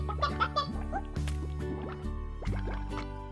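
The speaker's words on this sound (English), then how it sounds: "every time I look at these chickens, they just make me laugh" Cartoonish chickens cluck in the Slime Rancher video game, with several short calls over about three seconds alongside wet dripping, splashy game sounds and a steady background hum.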